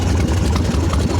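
A Harley-Davidson Evo Softail motorcycle with a carburetor idles close by, a loud, steady low rumble with an uneven pulsing beat and no talk.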